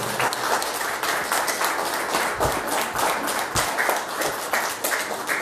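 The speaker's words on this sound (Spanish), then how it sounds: "Un fuerte aplauso, por favor." A crowd applauds steadily for about five seconds to honor Professor Alberto Medina Rodríguez, chronicler of the San José neighborhood in Jalapa, with dense, even clapping and no voices on top.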